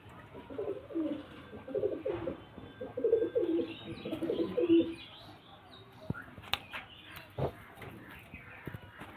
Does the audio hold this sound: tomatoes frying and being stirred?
no